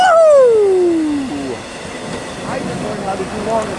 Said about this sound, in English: Great train. There goes eastbound.